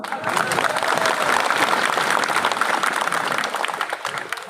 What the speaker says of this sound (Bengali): হাতে তালি দেবেন না?